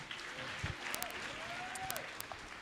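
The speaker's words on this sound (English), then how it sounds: "please give them a round of applause again" At a community colleges infrastructure programme launch, an audience claps in a soft, somewhat distant round of applause, with a few sharper claps and faint room noise mixed in.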